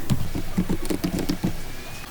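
Typing on a computer keyboard, a close, fairly loud burst of about a dozen quick key clicks in an uneven rhythm that stops partway through, leaving quiet room tone.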